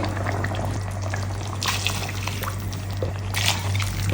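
Hot water pours steadily into a pot of fish biryani, a continuous splashing gush with a low hum underneath and no talking.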